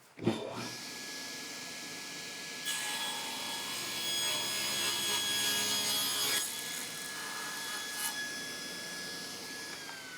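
A table saw spins up to a steady whine, then bites into a small scrap of thick 8/4 walnut for a few seconds of rough, louder cutting before settling back to the motor hum, heard close with no voices.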